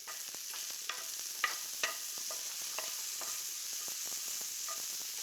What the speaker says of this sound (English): I'm also adding a little red pepper, because pepper and sausage is a classic combination.